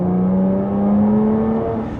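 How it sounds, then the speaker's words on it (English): A Jaguar F-Type V6 engine revs in a steady, loud sustained drone that climbs slightly in pitch, alone with no voices. "the V6 sounds absolutely insane. It's got more of that higher pitch sound, so when you knock it down, it goes the higher revs."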